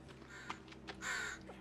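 A bird in the video game The Forest caws harshly several times at a low level: two short calls, then a longer drawn-out caw near the end.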